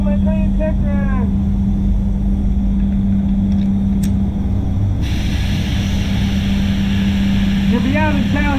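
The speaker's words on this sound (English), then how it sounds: "get his air blower for a minute" An air blower runs continuously to dry fresh spray paint on a Peugeot 3008, giving a steady loud whooshing drone with a tonal hum, while a voice talks briefly at the start and end.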